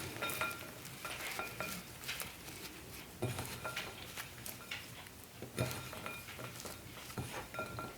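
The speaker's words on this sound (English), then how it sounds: "You wanna start mashing in the butter with your nuts and your flour." Butter is mashed into nuts and flour in a bowl for gluten-free pumpkin streusel. It makes quiet, close scraping and pressing sounds with intermittent clinks of a utensil against the bowl, repeating irregularly.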